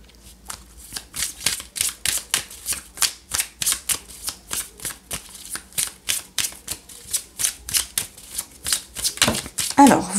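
Tarot cards being shuffled for a Gemini love reading, a steady run of about two dozen crisp riffling bursts at close range, heard alone with a brief handling noise at the end.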